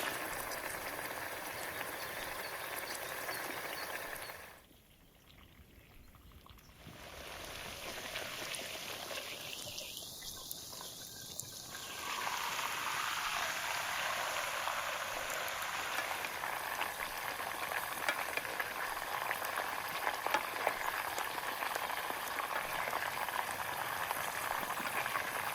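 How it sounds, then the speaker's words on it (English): Meat sizzles in butter in a skillet outdoors, a dense steady crackling hiss that briefly dips quiet and then returns louder and continuous. "There's nothing better for the ears than the sound of meat sizzling in butter, cooking in its own juices."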